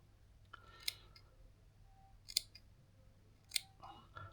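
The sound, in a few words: scissors snipping elastic hair weft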